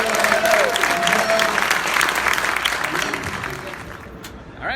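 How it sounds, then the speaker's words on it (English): Audience applause at a 35 mm screening of Friday the 13th: The Final Chapter with a cast and crew Q&A, a dense burst of clapping from a sizeable crowd that gradually thins out, with voices mixed in. "Give a round of applause for Lawrence."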